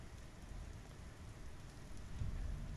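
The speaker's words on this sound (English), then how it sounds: "you can hear the rain. It sounds great." Steady, soft rainfall patters from the Star Citizen game world, a quiet even hiss with a low rumble swelling slightly toward the end and no voices.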